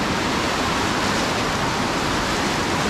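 Waves wash ashore at Lagoinha beach, a steady, loud roar of surf with no breaks and no voices.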